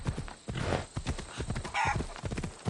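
Horse hooves clip-clopping in the Assassin's Creed Odyssey video game, a steady rhythmic trot close by with a brief whinny-like tone partway through, under game sounds and occasional voices.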